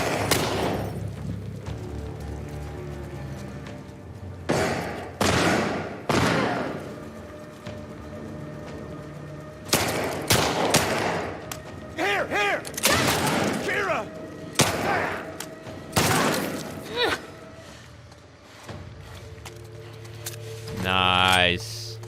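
Sharp game gunshots in The Last of Us Part II, several separate loud cracks spaced out over time, including two headshot kills, with game music and ambience underneath and brief talking.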